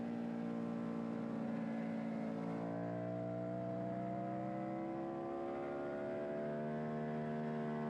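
A Suzuki SV racing motorcycle runs on the Phillip Island circuit in Australia, its engine note climbing steadily through the revs as it pulls hard, a continuous droning whine with no talk.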